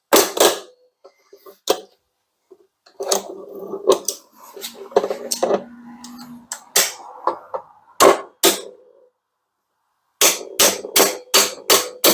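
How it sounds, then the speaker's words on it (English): Sharp metallic hammer strikes on a stuck brake caliper slide pin ring out in irregular bursts, some single blows and a rapid cluster of five at the end, close with quiet gaps between. "I have a hammer here."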